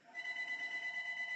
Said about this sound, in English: Ignore my phone ringing.